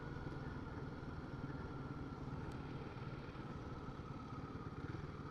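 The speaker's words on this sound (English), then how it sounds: "you can hear a loud motorbike coming" A Royal Enfield Guerrilla 450 motorcycle engine rumbles steadily with a low throbbing idle, fairly quiet and unchanging, with no clear pass-by.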